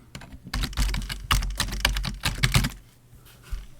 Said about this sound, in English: just type in any password you remember and then retype it